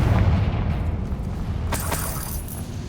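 A Confringo spell in Hogwarts Legacy goes off as a deep, rumbling boom, followed by a sharper crackling burst partway through, loud and close.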